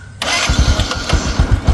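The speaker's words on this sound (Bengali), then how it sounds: "আর এখন চলে যাবো স্টার্ট করে সাউন্ড কন্ডিশন" A Bajaj Discover 125 motorcycle engine starting up, then settling into a steady, close and loud idle with a regular pulsing beat.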